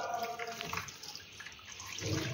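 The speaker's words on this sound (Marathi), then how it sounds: "आता यावर आपण थंड पाणी टाकून घेऊया" Cold water poured from a tap or jug over freshly boiled, drained soybeans in a strainer, a steady splashing wash heard up close at moderate level, briefly easing midway before swelling again.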